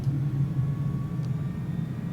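Steady low engine rumble of a Cirrus Vision Jet in Microsoft Flight Simulator 2020 on Xbox Series X, a constant faint drone heard alone.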